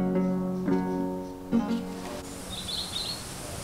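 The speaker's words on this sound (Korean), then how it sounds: "새소리에 기분 좋게 잠이 깼다." Birds chirping and calling in an English garden, with a large tree in the front yard where feeders hang: a few short tonal calls close by, then fainter high twittering in the background, no voices.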